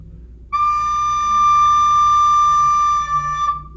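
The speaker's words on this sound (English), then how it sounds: "you may have an issue of overblowing, and that's going to make it sound like this." A single shrill, piping recorder note rings out for about three seconds, overblown and sounding too high, bright and steady.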